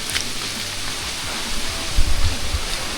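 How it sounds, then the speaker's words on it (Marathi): Monsoon waterfalls pour beside a muddy Sahyadri trail on the Panhala to Pawankhind trek, making a dense, continuous rushing roar with a few low thumps and no talking. "हे बघा धबधबे वाहतात आजूबाजूला"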